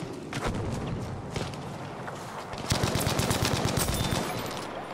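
Medium machine gun fire in Battlefield V, with rapid bursts of automatic shots at mid distance. A denser, louder burst comes near the end over a background of gunfire.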